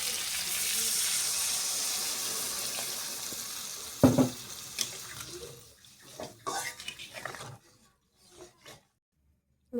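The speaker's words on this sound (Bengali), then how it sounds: "দিয়ে দেবো এখন জল।" Water poured into a simmering potato and tomato curry makes a steady rushing splash for about four seconds. A sharp knock and a few scattered clatters follow as the sound fades toward silence.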